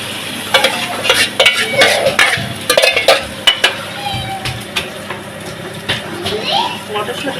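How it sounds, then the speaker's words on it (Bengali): A spoon stirs dal in a hot pan, with repeated close scrapes and sharp clacks against the metal over a light sizzle, in an uneven rhythm. "এবারে ডালটা দিয়ে দেবো, দিয়ে ভালো করে একসঙ্গে নেড়ে নেবো।"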